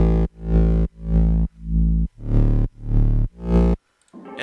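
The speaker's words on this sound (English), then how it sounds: "I have this gnarly 808 I made, and that has a filter on it that evolves, and it opens up to more like this." A gnarly, heavily distorted 808 bass with an evolving filter plays six loud, sustained notes in a steady rhythm, its tone opening up and brightening, followed by a brief quiet tail.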